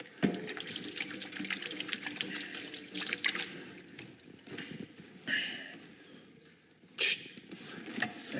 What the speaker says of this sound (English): Let's wash the hands.